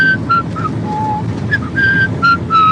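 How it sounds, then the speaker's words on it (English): Someone whistles a short, clear melody of several sustained notes with brief pauses between phrases, close and prominent over a low background rumble. "I'll whistle this tune."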